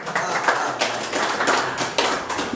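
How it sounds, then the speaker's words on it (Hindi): An audience at a live comedy show at Cafe Comix in Aligarh claps in a steady, rhythmic beat, a run of crisp, evenly spaced claps filling the room with no talk over them. "आपकी तालियां कमजोर हैं, ध्यान से सुनिए और तालियों की ताल दीजिए"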